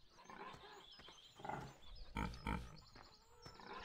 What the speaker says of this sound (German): Hier Schweine.